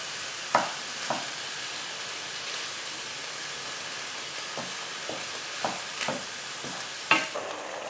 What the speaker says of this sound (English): we just want to soften the onions and the garlic and cook the mushrooms